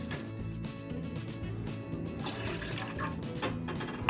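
Water poured from a glass into a pot on a gas stove for a homemade herbal kadha, a steady splashing stream under a running-water hiss throughout.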